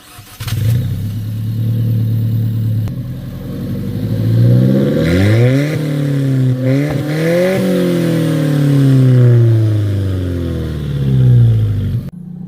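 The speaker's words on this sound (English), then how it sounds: "Let's start the engine and go for a ride." An Alfa Romeo 4C Launch Edition engine turns over and roars, then revs climb repeatedly through several gear shifts as it accelerates hard, loud and close.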